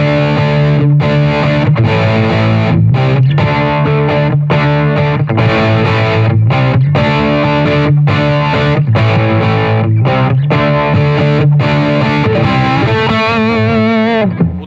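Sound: Bogner Ecstasy Mini distortion pedal, high gain mode, guitar

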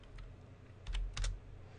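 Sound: typing a command on a computer keyboard

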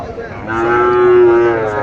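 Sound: cattle mooing at livestock market

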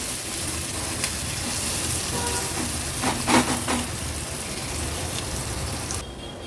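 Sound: finely chopped onion frying on low flame

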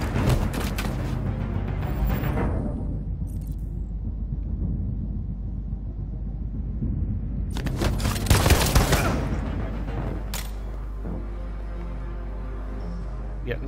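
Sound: gunfire in the video game Detroit: Become Human

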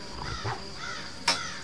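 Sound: crows cawing in the video game Die Young

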